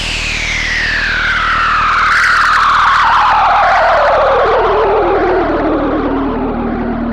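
An Arturia analog synthesizer filter with high resonance and saturation produces a loud, edgy, dirty sweep whose bright resonant peak glides steadily downward over several seconds, sustained and alone with no voice.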